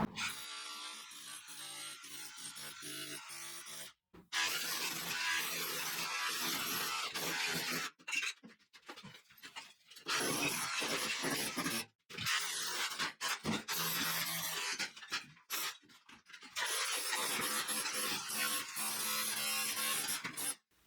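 A DeWalt SDS drill runs in loud, harsh bursts of several seconds each, separated by short pauses, with a gritty grinding rattle throughout.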